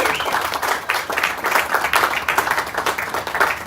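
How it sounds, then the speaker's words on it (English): An audience at a Pensacola State sports event applauds as Margie Moore approaches, steady dense clapping lasting throughout at fairly loud level, with no talk over it. "Let's give Margie a round of applause as she approaches."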